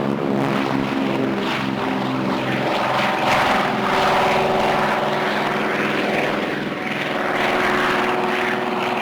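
Steady drone of a RAAF DHC-4 Caribou's propeller engines, loud and close with a continuous throbbing harmonic hum that holds level throughout, no voices.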